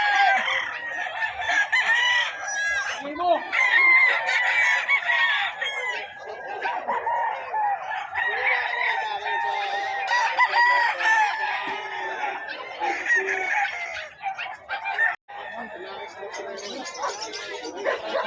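Many chickens cluck and chatter nonstop while roosters crow repeatedly nearby at a livestock market in Bocaue, with people talking faintly in the background.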